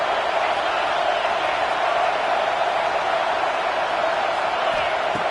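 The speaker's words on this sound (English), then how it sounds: "Listen to the crowd energy here in the early going." Simulated college football stadium crowd noise in the NCAA 26 video game, a steady, distant roar of a large crowd early in a game, continuous and moderately loud.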